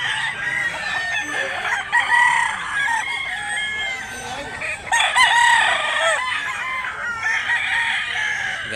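A rooster crows repeatedly nearby, loud drawn-out calls one after another, with other chickens clucking around it, at a chicken market.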